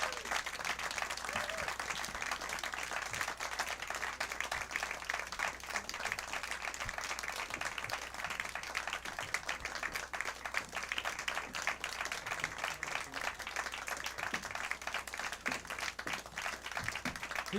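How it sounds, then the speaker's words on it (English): A live audience at a St. Paddy's Day show at The Duncan Showroom applauds the band, steady dense clapping from a sizable crowd sustained throughout at moderate level. "let's get some more hope on stage and welcome them back, please. With a big round of applause,"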